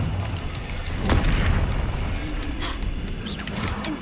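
A Confringo blasting spell explodes in the video game Hogwarts Legacy with a deep booming burst, followed by rumbling combat noise and a few sharper magical cracks toward the end.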